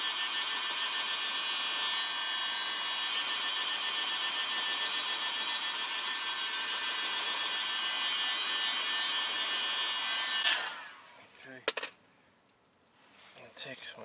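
A heat gun on setting 4 blows hot air onto a plastic seatbelt buckle in an Alfa Romeo Giulia or Stelvio, a steady loud whirring roar with a high whine that cuts off near the end, followed by a few clicks and handling noises.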